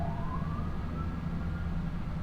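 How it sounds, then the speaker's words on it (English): Fire department sirens wail in the Farming Simulator 25 video game, a rising electronic tone sweeping upward over a low vehicle rumble, fairly faint and distant with no talking. "I guess that's the fire department sirens going off"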